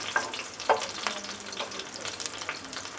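Pakoras sizzle in hot oil on a rainy day while being turned, with steady frying hiss and a few sharp clinks of the utensil against the pan, close and moderately loud.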